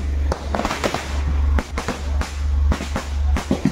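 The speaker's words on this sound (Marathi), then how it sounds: "ही आमची गँग फटाके लायताना पुढे." Firecrackers going off at a Ganesh Chaturthi celebration, a string of loud sharp bangs and crackles at irregular intervals over a steady outdoor rumble, with no talking.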